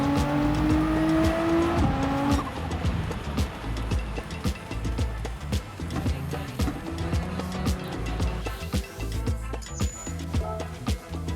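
Race car driven in Gran Turismo 7 on a farming circuit, its engine droning steadily through gear shifts and throttle changes, with brief tire squeals and clicks throughout, close and continuous.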